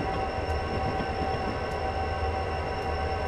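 A train in the Train Simulator 2016 video game on the Soldier Summit line from Provo to Helper rolls along with a steady, dense rumble and a constant high tone, with no breaks.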